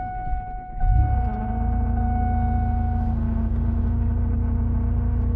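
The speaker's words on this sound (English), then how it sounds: "We're gonna start the car and pray to God it doesn't fucking spin a bearing." A car's engine cranks and starts on a freezing morning, settling into a loud, steady idle with a sustained whine from the power steering.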